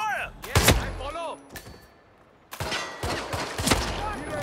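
Gunfire in the video game Hitman comes as loud, sharp shots and bursts with echoing tails, some close and some farther off, separated by a brief quieter gap.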